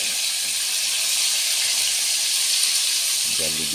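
Botete pufferfish crispy frying in hot oil with pepper, a loud, steady, dense sizzle and hiss filling the whole stretch, with a brief voice near the end.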